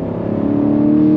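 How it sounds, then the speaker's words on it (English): A 2023 Chevrolet Camaro SS convertible's naturally aspirated V8 revs loud and close, a steady throaty drone holding strong for just over a second with no talk. "that glorious sound of that naturally aspirated V8. It sounds so freaking good."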